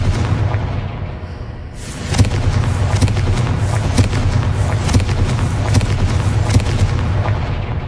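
Repeated fiery blasts of the Confringo spell in Hogwarts Legacy, a series of booming explosive hits after a brief lull, with crackling impacts and rumbling effects layered in the game's dense soundscape.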